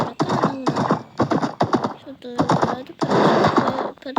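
A horse in the Minecraft video game trots over mountainous terrain, its hooves clopping in quick rhythmic bursts under someone talking almost continuously.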